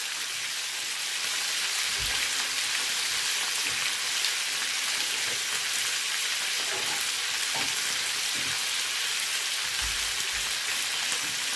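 Tomatoes with salt cook in a pan on a gas flame, giving a steady, close sizzle with occasional scraping stirs and soft clicks, with no talking.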